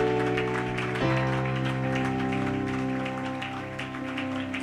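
A church congregation applauds and cheers for the Lord, a sustained wash of clapping over held musical tones that stays fairly loud, then eases slightly toward the end.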